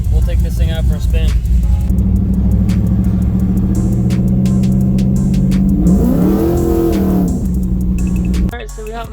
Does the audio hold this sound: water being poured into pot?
no